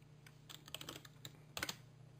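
Computer keyboard typing in a quiet room, with clusters of light, quick key clicks in a few short bursts and a louder pair of strokes near the end, over a steady low hum.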